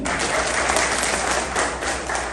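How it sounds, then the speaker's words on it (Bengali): A crowd of audience members at a business community gathering bursts into dense, loud applause that holds steady and close for a couple of seconds. "আমরা একটু সারা জন করতালি দিই"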